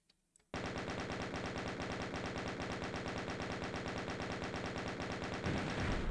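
Rapid automatic gunfire fires in a loud, steady stream at a monster in the Doom mod myhouse.wad. A brief quiet lead-in comes first, then the shots run without a break to the end.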